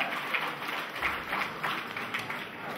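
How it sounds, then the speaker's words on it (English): A crowd at a high school's 50th anniversary celebration applauds a former staff member, with steady, dense clapping at moderate volume that continues without pause throughout. "Round of applause for him and everything he did for our school."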